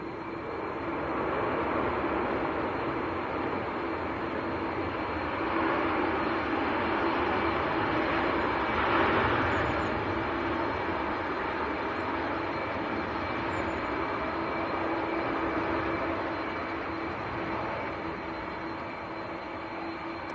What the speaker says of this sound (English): Ryanair now touching down.